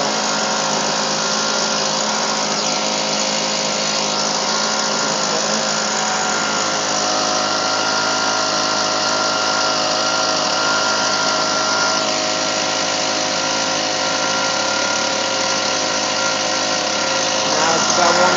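A Husqvarna 125B leaf blower on a cold start runs on half choke, its small two-stroke engine holding a steady, loud, continuous drone close by for the whole stretch, rising slightly at the very end.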